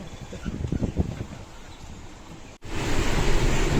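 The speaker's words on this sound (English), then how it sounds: "A little YouTube and a whole lot of waves outside" Rough waves wash against the hull of a sailboat at anchor, exposed to an easterly wind, a steady rushing surge that builds louder in the second half with wind noise on the microphone.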